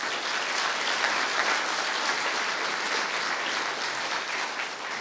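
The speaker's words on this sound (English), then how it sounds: "Miyagawa deserves a huge applause for all of this" Sustained, dense applause from a conference audience at a Perl talk, steady and enveloping throughout with no voices standing out.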